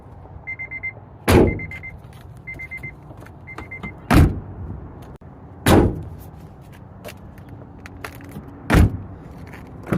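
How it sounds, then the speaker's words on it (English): Four solid Honda Element car door thuds spaced a couple of seconds apart, with faint electronic chimes and light background rustle between them. "So the way that these doors shut,"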